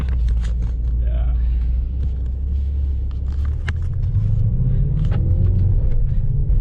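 A Mercedes-AMG GT 63 S 4-Door's engine rumbles steadily from inside the cabin while driving, a deep continuous drone with faint clicks and rattles on top.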